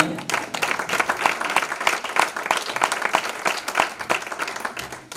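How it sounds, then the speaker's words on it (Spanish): A church congregation applauds in praise: brisk, dense clapping from many hands that stays fairly close and steady for about five seconds. "Amén, denle un aplauso al Señor."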